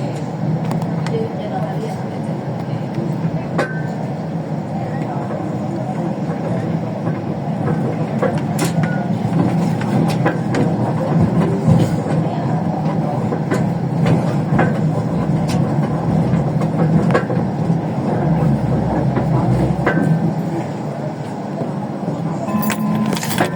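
A Hong Kong Light Rail train runs from Town Centre toward Siu Hong, with a steady loud rumble, rattling and faint clicks recorded from inside and heard close throughout.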